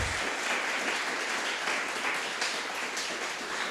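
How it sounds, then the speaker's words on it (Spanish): A church congregation claps together in dense, sustained applause that stays steady and even throughout, loud and filling the room. "Denle un aplauso al Señor, mis hermanos."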